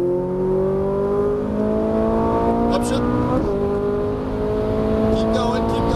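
A Ferrari 458 Italia engine pulls hard out of a turn on a track, its tone rising steadily under acceleration, loud and continuous, with a brief shift in pitch partway through.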